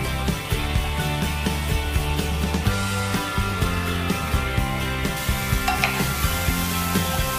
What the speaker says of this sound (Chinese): 我们要干煸杏鲍菇